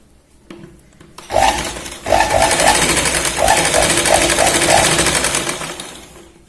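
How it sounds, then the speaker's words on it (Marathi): A close, loud sewing machine stitches diagonally on a boat neck kurti, with a brief start and then a sustained whirring run with rhythmic needle chatter that gradually slows and fades. "आता आपण तिरकशी इथे शिलाई घेणार आहोत"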